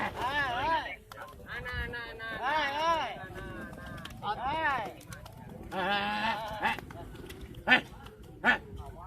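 Goats bleat in a rural setting, giving several loud, wavering calls one after another over about nine seconds. Two short, sharp cries stand out near the end.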